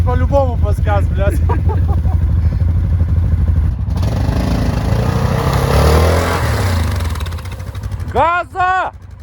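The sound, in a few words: ATV quad bike engine driving through a river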